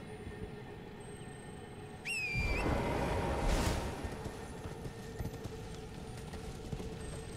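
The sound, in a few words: horse galloping in video game Elden Ring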